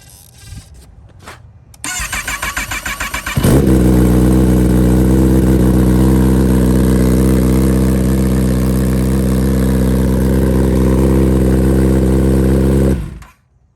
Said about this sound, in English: I'll give you a quick cold start on the M4 exhaust.